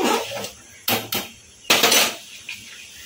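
Refined oil being stirred in a cooking pan for ghee rice, heard as several loud metallic scrapes and clanks of a utensil against the pan in uneven bursts, close and with no voices.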